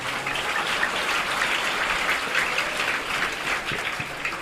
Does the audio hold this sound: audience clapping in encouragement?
yes